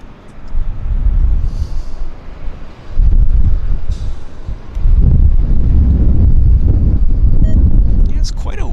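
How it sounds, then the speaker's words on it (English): Brisk wind buffets the microphone at Vancouver Airport, a loud low rumble that swells in gusts and stays steady throughout. "Quite a brisk wind."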